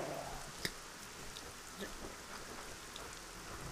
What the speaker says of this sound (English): Hopefully this rain doesn't make my computer lag completely.